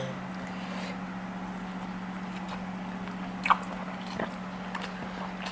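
Someone chews a spicy seafood salad and durian, with soft, faint mouth sounds and one sharper bite partway through, all over a steady low background hum and no talking.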